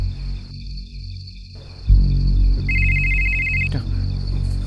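A phone rings with an incoming call, a single short bright electronic ring burst partway through, set over low rumbling room noise with no one speaking.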